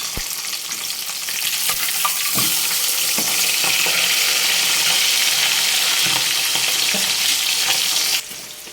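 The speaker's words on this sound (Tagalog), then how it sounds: "Ayan, nagpiprito din po ako pala tayo ng tilapia." Steady loud sizzling of tilapia frying in a pan, with occasional clinks and stirring sounds, continuing without talk until it drops slightly near the end.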